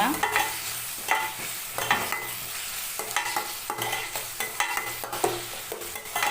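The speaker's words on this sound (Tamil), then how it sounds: "வெங்காயத்தை சேர்த்து நல்லா வதக்கிக்கோங்க நல்லா பொன்னிறமாக வதக்கிக்கோங்க" Sliced onions sauté in a hot pan for a cauliflower gravy, with a soft sizzle under repeated scraping spatula strokes stirring in an irregular rhythm, close and fairly quiet with no talk.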